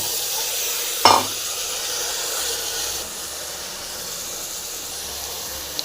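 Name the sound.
drumsticks frying and being stirred in a pan for sambar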